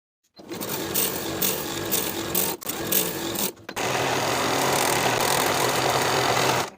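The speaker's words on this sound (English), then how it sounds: "Sew that yoke seam with a 3/8 inch seam allowance" Close and loud, a sewing machine runs hard along a shirt jacket yoke seam, a fast, even mechanical chatter. It stops briefly twice before resuming a longer continuous run, with no talking.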